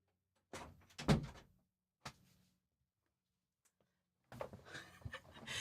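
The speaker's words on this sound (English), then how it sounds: "So I'm going to have to shut my door." An indoor door in a quiet room shuts with a muffled thunk, followed by a fainter knock and then rustling handling noise after a pause.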